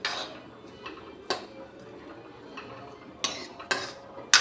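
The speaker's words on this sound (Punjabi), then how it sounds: "ਆਪਾਂ ਜੀ ਲਗਾਤਾਰ ਚਲਾਉਂਦੇ ਰਹਾਂਗੇ ਜੀ ਪਿਆਜ਼ਾਂ ਨੂੰ ਪਕਾ ਲਾਂਗੇ" Onions stirred in hot oil in a kadai with a metal spoon: irregular scraping strokes and clinks against the pan, some sharper than others, at moderate loudness with no talking.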